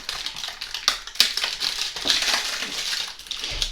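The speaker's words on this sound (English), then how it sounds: "open up this box with my trusty knife here" A knife slices open a cardboard box holding TGF Childish RC Drop merch, making close, short scraping and crunching cuts in an uneven rhythm.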